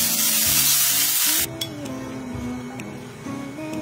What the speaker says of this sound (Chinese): 热锅冷油下腌制好的牛肉，炒到要变色，大概两分钟